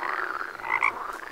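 A frog croaks a few times in quick succession, close and fairly loud, with nothing else heard.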